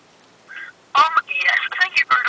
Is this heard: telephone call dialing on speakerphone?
yes